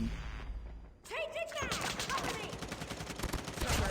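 Heavy gunfire from the mobile shooter Call of Duty Mobile erupts after a short quieter lead-in, then keeps going as loud, rapid, overlapping automatic bursts.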